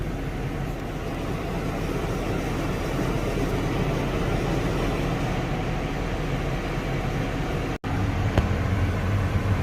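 A heavy machine crawls slowly in low creeper gear while pushing on its lift arms, a steady, loud, droning engine rumble with a brief cutout near the end.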